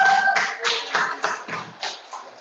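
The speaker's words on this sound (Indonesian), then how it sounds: "Silakan tepuk tangan dulu untuk kelompok Era" Classroom applause for a student group about to present, a short burst of clapping that fades into a few scattered, uneven claps.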